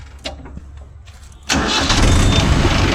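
A Mahindra Yuvo Tech Plus 585 4WD shuttle tractor engine starts: a few faint clicks and knocks, then the diesel catches abruptly and settles into a loud, steady idle nearby.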